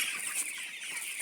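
Chickens in a backyard coop cluck softly in a high, busy chatter, fairly faint, with no one talking.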